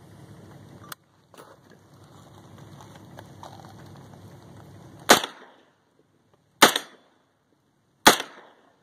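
A 9x19mm H&K MP5 submachine gun fires three loud, sharp single shots in semi-automatic mode, spaced about a second and a half apart, after a stretch of low handling noise.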